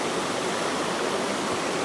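A small cascading waterfall pours into a pool, a steady, loud broadband rush of water heard close up and alone.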